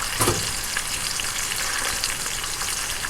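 Bacon strips fry in a pan with a dense, crackling sizzle that carries on steadily, close and moderately loud, with a brief sharper burst of spatter near the start and no voices.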